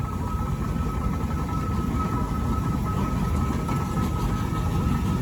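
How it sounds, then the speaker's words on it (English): A BB steam ploughing engine rolls along at a steam and vintage show, giving a continuous heavy, low rumble that stays close and loud, with a faint steady whine above it. "The BB ploughing engine coming along behind"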